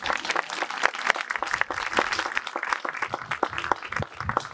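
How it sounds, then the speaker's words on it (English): Wedding guests clapping at an outdoor island celebration, a lively stretch of many hands applauding close by with distinct individual claps throughout. "Clap hands."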